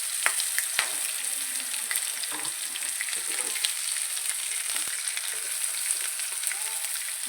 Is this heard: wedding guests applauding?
no